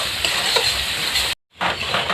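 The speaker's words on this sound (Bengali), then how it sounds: "শুকনো লঙ্কার গুঁড়ো, তারপরে মশলাটাকে কষিয়ে নেবেন।" Masala with dry chili powder frying in oil, a loud, dense sizzle with stirring scrapes that cuts out briefly, then resumes.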